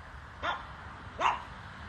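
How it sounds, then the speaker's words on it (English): A chihuahua gives two short, high yappy barks, fairly close, with a quiet pause between them. "Pepper, what are you barking at?"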